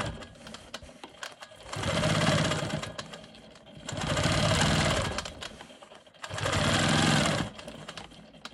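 A Quilt Maker Pro 20 quilting machine stitches straight lines across a quilt block in three sustained bursts, each a fast, buzzing whir separated by short pauses.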